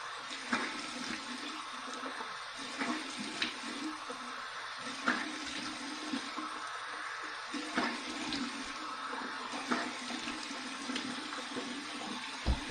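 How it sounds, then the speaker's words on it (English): Cold tap water running steadily into a sink for a rinse during a wet shave, a continuous splashing hiss with small clinks and knocks. "Cold water rinse."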